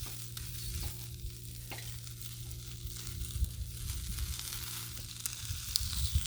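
Sausages sizzling on a hot Blackstone griddle, a steady close frying hiss with occasional pops and scraping, continuous throughout with no talking.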